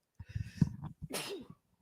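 A single loud, close sneeze on a sports radio talk show: a quick gasping inhale, then a sharp burst with a short breathy tail, with no talking.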